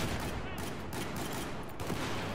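Pistol shots from a Battlefield 4 match crack repeatedly in a dense, continuous barrage of game gunfire, loud and close.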